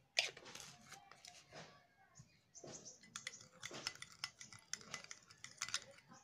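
A spoon clinks and scrapes faintly as a spoonful of sugar is stirred into a homemade remedy mixture, with irregular light taps and scrapes in a quiet room.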